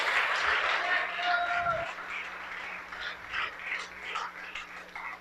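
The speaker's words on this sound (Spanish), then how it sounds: "Le da un aplauso de alabanza a Dios." A church congregation bursts into applause of praise, a dense, sustained wash of clapping that holds for several seconds and then thins, with a few voices mixed into the noise.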